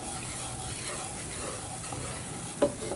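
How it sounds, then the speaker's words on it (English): Flour being stirred into a hot pan for a German caper sauce, a soft continuous scraping and faint sizzle with one brief clink near the end, close and steady, no talking. "we're just going to keep mixing on that"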